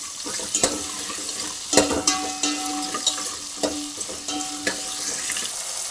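Drumsticks fry in a pan with a steady crackling sizzle, punctuated by sharp clinks and scrapes from stirring and several brief tonal rings from the pan.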